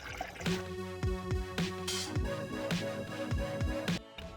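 Coolant poured into the radiator of a Mitsubishi Eclipse GSX, heard as a close, irregular gurgling trickle with glugging bursts over a few seconds, no talk.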